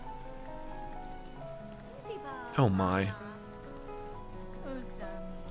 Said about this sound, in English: Oh, that's right. It's raining.